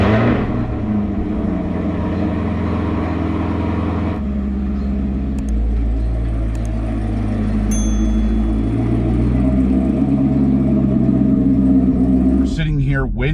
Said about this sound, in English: Waiting for the car to warm up